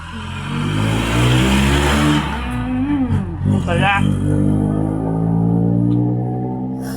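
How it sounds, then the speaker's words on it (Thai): A car passes close by, its engine note rising and swelling before settling into a lower hum, while people talk over it. "เสียงรถมันก็ดังนะพี่อง"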